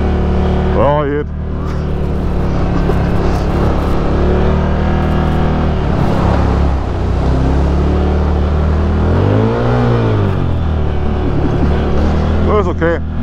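Farm vehicle, likely a tractor, driving slowly at about 26 km/h while preparing for a farmers' protest, a steady loud engine drone throughout with pitch shifts, under people talking.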